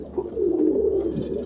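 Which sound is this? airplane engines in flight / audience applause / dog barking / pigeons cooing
pigeons cooing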